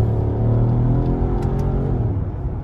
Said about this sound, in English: Just a crazy sound from this exhaust